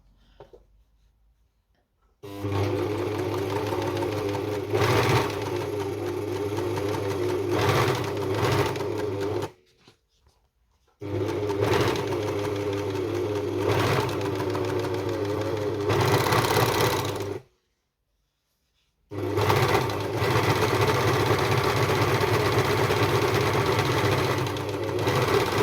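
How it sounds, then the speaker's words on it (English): An overlocker serger stitches around the edge of a fabric apron piece in three long, steady mechanical whirring runs, broken by short silent pauses. "I'm going to use the overlocker to overlock all the way around that."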